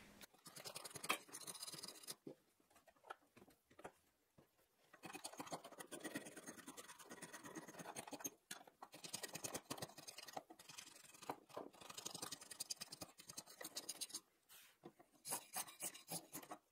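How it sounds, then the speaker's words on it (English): A wooden quilt rack gets a final hand sanding with sandpaper, a close, quiet scratchy rasping in irregular back-and-forth strokes with brief pauses. "then hit it with a little sandpaper"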